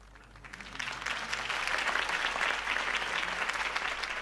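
A crowd applauds at Harvey Dent's campaign speech in the Batman video game, the clapping starting softly and swelling into a steady, moderately distant roar of many hands over a low hum.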